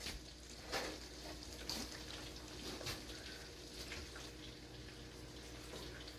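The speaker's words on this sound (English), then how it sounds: "To that, we are going to add some milk." Milk pours into a pasta bake in a home kitchen, a soft steady liquid stream with a few faint clinks and splashes, fairly quiet throughout.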